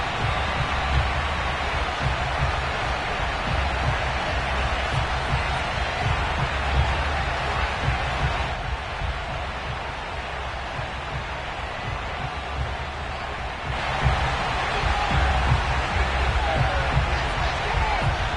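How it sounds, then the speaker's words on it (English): A stadium crowd in an EA Sports NFL football game roars with a constant wash of cheering and murmur for a Week 6 matchup against the Philadelphia Eagles, swelling and dipping slightly throughout with no clear speech. "this crowd is ready to go"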